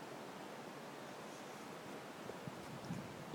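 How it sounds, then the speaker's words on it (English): Wind blows outdoors during a New Year's Eve snowstorm, a constant broadband rush buffeting the microphone with low rumble, faint and unbroken. "Getting pretty windy out."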